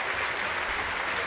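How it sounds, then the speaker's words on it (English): A crowd claps steadily through a standing ovation at the 2024 Hall of Fame ceremony at Dawson Community College, a dense wash of applause with no pauses. "are getting a standing ovation here, as they should"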